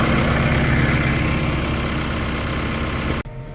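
A farm tractor engine idles steadily with a low, even rumble, close and continuous, before cutting off abruptly near the end.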